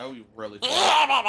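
A person sneezes sharply, close and loud, right after a short spoken phrase.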